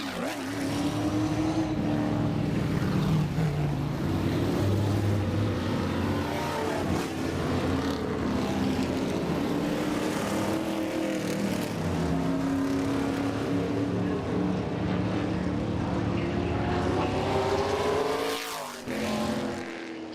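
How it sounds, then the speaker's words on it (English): Modified race cars racing at Langley Speedway, a steady loud roar of engines with pitch sweeps as cars pass, fading slightly near the end. "Getting back to the action here in the modified, Sean Beluzzo, Jimmy Humlet, Matt Sly, Danny"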